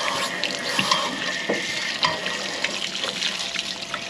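Water rushes and splashes from an RV hot water tank being flushed and rinsed, a continuous gurgling spatter with scattered clicks and scraping knocks, close and fairly steady.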